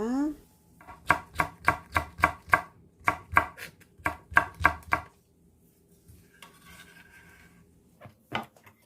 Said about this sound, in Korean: 오징어는 사선으로 칼집을 내주고 썰어 주었고요